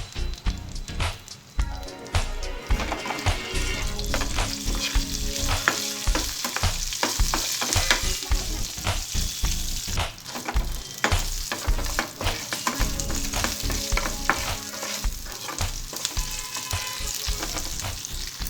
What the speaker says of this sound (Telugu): పచ్చడి తాలింపు కోసం స్టవ్ మీద ప్యాన్ పెట్టి ఆయిల్ వేసుకోవాలి. ఆయిల్ వేడైన తర్వాత తాలింపు గింజలు,